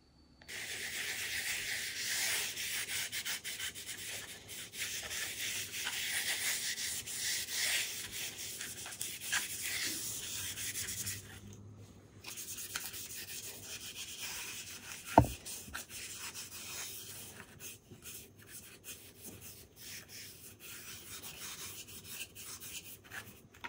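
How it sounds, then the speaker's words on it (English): Howard Feed and Wax being rubbed into wood with a cloth, a long run of steady scuffing strokes, close and soft, with a brief pause midway and one sharp knock. "I'm going to use the Howard Feed and Wax and condition the wood"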